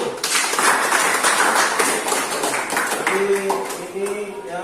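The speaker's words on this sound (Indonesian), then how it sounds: "Luar biasa, beri tepuk tangan dulu." A classroom audience claps in a dense, sustained burst that gradually thins out, with some voices and a tonal sound emerging near the end.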